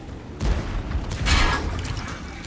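Artillery in a tank video game booming in two heavy, rumbling blasts about a second apart, loud and close, each trailing into a rolling roar.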